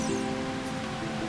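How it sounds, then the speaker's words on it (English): Steady rushing water from a waterfall at the top of Zora's Domain in the video game Zelda: Master Quest, a continuous dense hiss with a low game hum beneath, alone without speech. "Oh, top of the waterfall."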